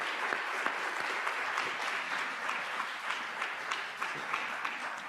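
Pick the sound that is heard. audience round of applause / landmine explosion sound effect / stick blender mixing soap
audience round of applause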